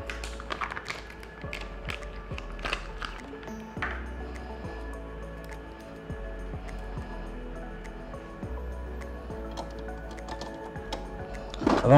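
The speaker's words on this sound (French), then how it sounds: "On va retirer ensuite la tête d'impression couleur." Colour print head handled and removed from a Canon G3411 printer: scattered small plastic taps, clicks and light clinks near the mic over a quiet background hum, busier at the start and end.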